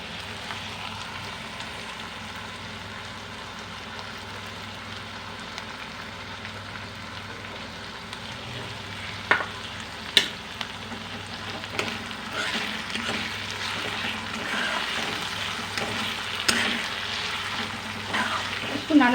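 Spice paste sizzles in hot oil for a mourola fish curry, a continuous close frying hiss that grows busier and louder toward the end, with occasional clicks and pops of stirring.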